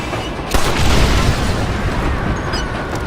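A loud explosion booms in Red Dead Redemption, a sudden broadband blast that rumbles and sustains for a few seconds with a dense, noisy roar.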